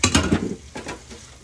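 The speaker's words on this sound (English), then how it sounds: "I'm gonna put it in this butter. I'm gonna stir it." A spoon stirs a mixture into melted butter for mini apple pies, giving a few quick scraping, clicking strokes up close before fading to quieter stirring.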